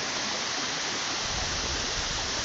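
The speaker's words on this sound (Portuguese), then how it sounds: "Vou mostrar aqui um reguinho d'água aqui, por onde a água vem" Small stream of water running near a high waterfall, a steady broadband rush with no pauses, close and loud throughout with no voices.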